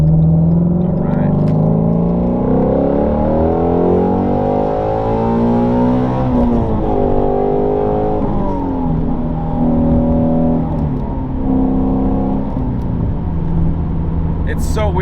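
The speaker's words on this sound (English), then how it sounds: "We'll rev this thing out. We'll see how high we can get it." A 2016 Shelby GT350 with its 5.2-litre Voodoo V8 revs loud and close, the engine climbing high, sagging and rising again in long sweeps.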